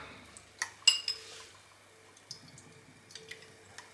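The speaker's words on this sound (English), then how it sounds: "Let a fair bit of the batter drip off." Thin batter dripping off small battered fish pieces back into the bowl, a few faint wet drips and light clinks spread over a quiet background, with no talking.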